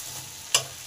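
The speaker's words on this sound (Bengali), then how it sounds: "মশলাগুলো আমার ভালোভাবে কষা হয়ে গেছে, মশলার আর কোনো কাঁচা গন্ধই নেই।" Spices sauté in a pan for a Bengali fish-head chhyanchra, a soft continuous sizzle broken by two sharp scraping stirs, one midway and one at the end, with no voices.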